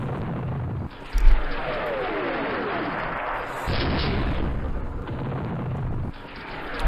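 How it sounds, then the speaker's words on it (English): Airstrikes in the wargame Campaign Series Middle East land as a heavy, sustained rumble of explosions and artillery-like booms, with one sharp blast near the start, rolling on at a steady level. "I'm going to bomb these guys. So we'll get some airstrikes in."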